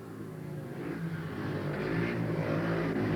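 Speedway motorcycles race down the back straight at a 1990 Hackney Kestrels versus Ipswich Witches meeting, engines roaring and swelling steadily louder as they pass, heard alone.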